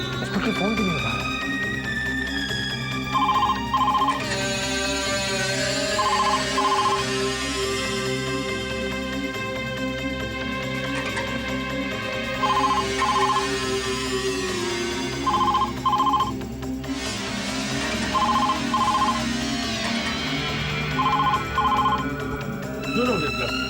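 A telephone rings repeatedly with no one answering, paired double bursts of ringing recurring about every three seconds, with tense dialogue and a musical drama score running beneath throughout.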